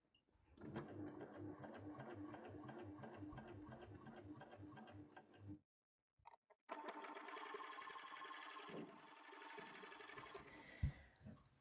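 A coverstitch machine sews a chainstitch in a fast, steady mechanical whir with rapid ticking, runs for several seconds, pauses briefly, then starts up again at a similar pace.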